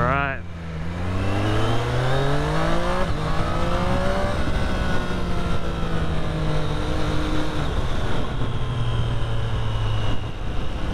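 A 2023 Triumph Street Triple 765 R motorcycle accelerates hard up close, its engine note climbing through the revs, dropping at a gear change, then rising again.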